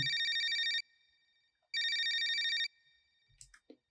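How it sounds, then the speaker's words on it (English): A phone ring tone, tuned to the key of a breakbeat track, plays twice as clean, loud bursts of a bright warbling tone, each under a second long, with a pause between, then a few faint clicks. "It's just a dial tone, and I think I tuned it to make sure that it was in key."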